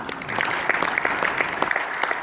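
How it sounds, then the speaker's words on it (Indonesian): A church congregation applauding during a sermon, with a bright, fairly soft wash of clapping and scattered sharper individual claps standing out across the whole stretch. "Tepuk tangan Tuhan Yesus"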